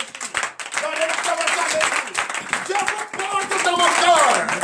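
Congregation at a morning prayer service claps steadily in a dense, continuous patter, with voices calling out over and through the clapping for the whole stretch.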